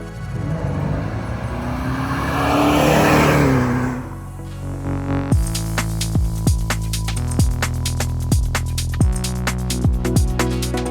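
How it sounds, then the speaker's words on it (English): A restored Jaguar E-Type Series 3 roadster fitted with a GM 450-horsepower LT1 V8 and eight-speed automatic, a loud engine rising in a sustained rev, then a run of sharp repeated throttle blips close by. "The Saratoga Commission is powered by a GM 450 horsepower LT1 engine with 8-speed automatic transmission"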